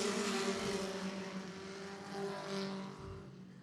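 Race cars at Barrie Speedway roar continuously in a loud, close engine drone, the pack's pitch shifting as they power around the oval, with a brief swell and dip near the end.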